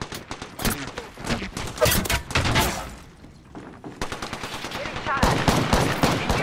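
Enemy gunfire in a video game comes as rapid automatic bursts, loud and close, that repeat in clusters with a brief lull near the middle before firing resumes.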